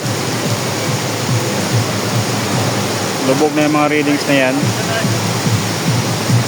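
Loud, steady roar of the flooding Marikina River rushing during a typhoon fills the scene continuously, with someone briefly talking over it.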